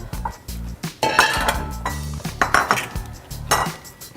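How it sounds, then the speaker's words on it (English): Three serving bowls set out on a restaurant kitchen counter after plating fish linguine, giving close, repeated clinks and clatters of dishware over a low, steady kitchen rumble, with no talk. "And let's lay the 3 bowls out."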